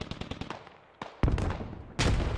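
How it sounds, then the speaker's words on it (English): Explosions and automatic gunfire in an online competitive shooter match: a rapid string of shots, then two loud, broad blasts about a second apart with a dense roaring tail, no talk. "SRG gets a nade off right onto Hello Earth's head"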